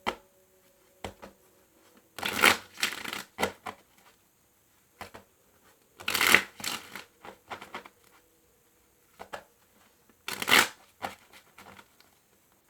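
Crystal oracle cards are shuffled in three distinct bursts of riffling flutter, each about a second long, with soft handling taps and quiet pauses between them.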